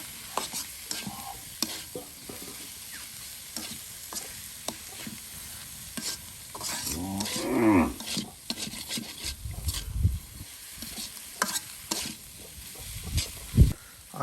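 Spice paste sautéed and stirred in a pan with salt in a village kitchen, a continuous soft sizzle broken by scraping spoon strokes and rasping rubs against the pan, close up with no talking.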